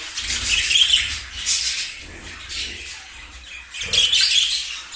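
Budgerigar chicks chirp in a nest, bursts of high, thin, raspy begging calls that come in several close clusters separated by short pauses, with no talking.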